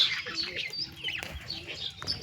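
Wild pigeon chicks give faint, high, thin chirps in short repeated bursts, with a soft rustle and background noise around them.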